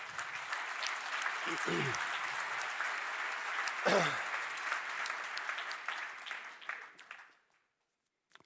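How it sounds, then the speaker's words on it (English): Sustained applause from a conference audience celebrating their achievement, a dense, steady wash of clapping that runs loud for about seven seconds, with a couple of brief low thumps, before fading quickly to silence. "this is the biggest applause we need to give ourselves"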